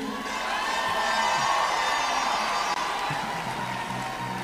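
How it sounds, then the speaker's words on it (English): A concert crowd at a show cheers and roars for Peter Obi. The dense, loud wash of voices and whoops holds steady throughout, with no clear speech on top. "Please, a round of applause for Peter Obi in the building."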